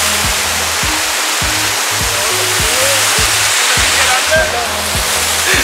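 A loud, steady roar of rushing water from a nearby waterfall, heard from its top, fills the scene, with faint rhythmic thumps underneath and no clear speech.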